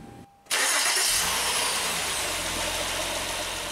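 Honda Accord 3.5L V6 engine cranks briefly and catches, then settles into a loud, steady idle as it warms up, close by with no talk.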